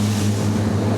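A Halma HR 30 RIB motorboat speeds across open water, its outboard engine droning loud and steady with wind and rushing spray filling the sound.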